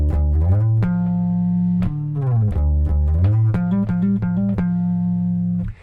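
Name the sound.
bass guitar playing a riff with hammer-ons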